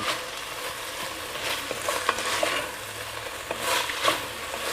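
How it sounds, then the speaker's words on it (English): Pork browns in a hot pan with a steady, crackling sizzle, broken by occasional scrapes and stirs, close and moderately loud with no voices. "So just keep cooking that pork"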